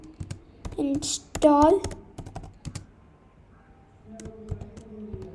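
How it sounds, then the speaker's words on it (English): Quick, crisp key clicks on a MacBook Pro M1 keyboard come in short bursts, interleaved with someone speaking close by. "now let's type the command brew"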